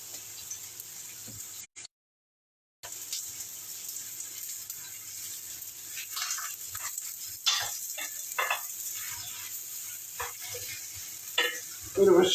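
Courgettes sizzle and crackle in a hot frying pan, a steady bright hiss with scattered spits and pops, briefly broken by a short silent gap, and occasional stirring scrapes near the end.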